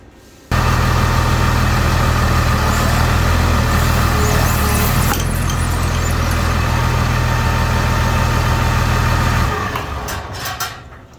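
A steady engine driving a pump drones loudly at close range with a low, even idle rumble, running for several seconds before easing off near the end.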